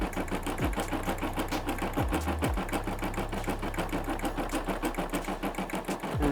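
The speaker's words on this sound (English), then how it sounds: "And now it's just gonna stitch out the text," An embroidery machine stitches out lettering for a Gun Bible Grove design, its needle hammering in a fast, steady rhythm with a low motor hum, close and loud, pausing briefly between jumps before resuming.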